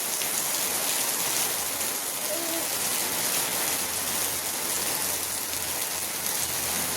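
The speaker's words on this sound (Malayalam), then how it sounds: "ഇന്ന് കാലത്ത് തന്നെ എണീറ്റപ്പോൾ നല്ല മഴയായിരുന്നു" Heavy morning rain pours down in a steady, dense hiss that holds evenly from start to finish, with no voices.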